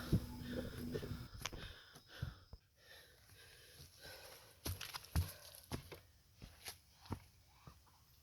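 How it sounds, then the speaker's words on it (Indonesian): Heavy, ragged breathing and sniffing up close from a hiker climbing Mount Salak, with footsteps crunching along a trail and occasional sharp gasps between breaths. "Suara saya sudah ngos-ngosan, napas saya sudah ngos-ngosan."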